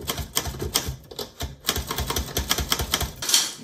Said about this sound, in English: you basically have about 44 keys on a typewriter on average